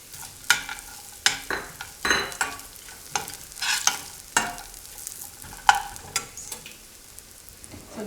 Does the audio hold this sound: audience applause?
no